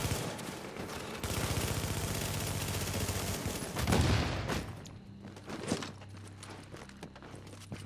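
Dense, sustained gunfire hitting a fortification in a video game battle: rapid overlapping shots and impacts form a continuous rattle that surges, then thins into scattered cracks and thuds.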